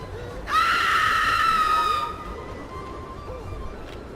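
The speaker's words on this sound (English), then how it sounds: "Scream for help." A woman screams for help in a video game, one loud, high, wavering cry lasting about a second and a half over a low background, then fading out.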